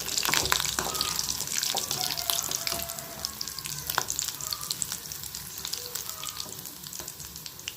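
Soft, steady sizzle of chicken cheese balls frying on a low flame, faint and continuous with small pops and crackles, heard close with no talk.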